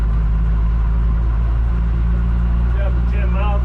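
A 1963 GMC service truck with a rat-rod engine lugs in high gear at about 10 mph, giving a loud, continuous low engine drone and rumble with rising tonal whine near the end.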